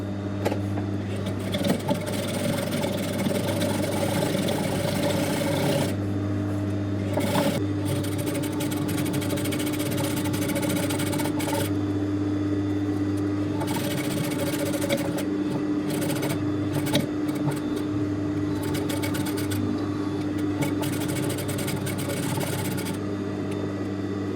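Sewing machine edge-stitching bias tape onto a fabric mask, a continuous close mechanical hum and whir that runs for the whole stretch with brief changes in pace and short pauses.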